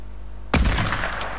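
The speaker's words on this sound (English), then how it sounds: "I'll shoot him" A loud Fortnite gunshot bursts in after half a second of near-quiet and rings out briefly, with a second faint crack following near the end; no one speaks.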